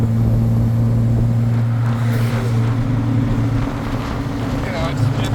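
Heard from inside, a 1963 Austin Healey 3000 Mark II BJ7 with a four-speed gearbox and overdrive holds a steady, loud engine drone while cruising on the road, with voices talking over it.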